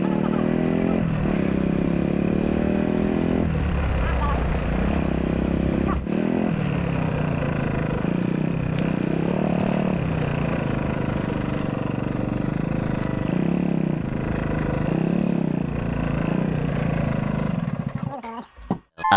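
A motorcycle rides along a hill road in North Bengal, its engine droning steadily and up close with gear changes and revs throughout, under occasional talk, before cutting off at the end.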